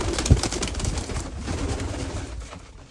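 Pigeons at a small hobby farm coo close by in soft, repeated low throaty calls that overlap into a steady murmur, with a brief rustle near the start and no voices.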